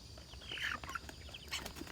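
Broiler chickens in an outdoor run cluck softly and intermittently over a faint, breezy background, with a few brief higher calls and no talking.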